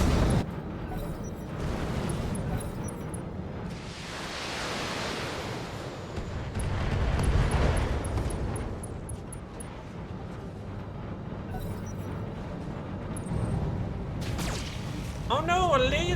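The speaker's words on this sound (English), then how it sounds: "you just got hit with like 2 swarms of missiles" Missile swarms strike and explode in a BattleTech game, a dense rumbling roar of impacts with surging blasts throughout, heavy low booms under continuous noisy debris and voices talking over the action.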